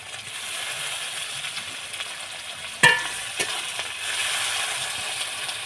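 Chopped onion and tomato fry in hot oil in a pan for egg biryani, giving a steady soft sizzle with a sharp clatter of a spoon against the pan and brief stirring scrapes, with no talking.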